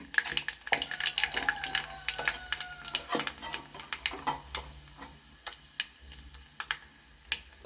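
Rapid, irregular crackles and sharp pops of mustard seeds bursting in well-heated oil, spattering close by with scattered clicks and no talking.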